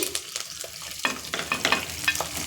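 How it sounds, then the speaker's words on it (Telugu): Onion, green chili and curry leaves sizzling in hot oil, with a brief crackling fry and scraping stirs close by and no talk. "ఇప్పుడు ఉల్లిపాయ పచ్చిమిరపకాయ వేసేద్దాం అలాగే కొంచెం కరివేపాకు"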